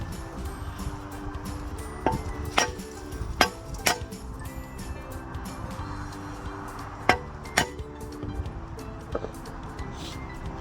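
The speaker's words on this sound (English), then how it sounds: "So I'm gonna hit with the hammer," A hammer strikes a wheel stud to knock it out of the hub, landing about six sharp metallic blows close by. The blows come in loose pairs separated by pauses, over a low background hum.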